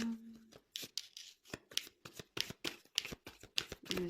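Cards for a fortune-telling reading are shuffled by hand, up close, in a quick run of sharp riffling snaps and soft slides that repeat at a steady rhythm, with no talking.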